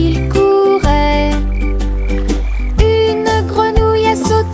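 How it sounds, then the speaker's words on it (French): Loud, repeated croaks from a frog in a French children's song, with deep rhythmic calls over a musical backing. "Une grenouille a sauté et a fait signe de la main."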